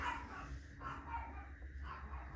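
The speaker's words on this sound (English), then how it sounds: "My dog is barking now." A dog barks faintly in the distance, several muffled barks in an irregular rhythm over a low steady hum.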